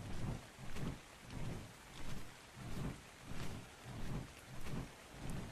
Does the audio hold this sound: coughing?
no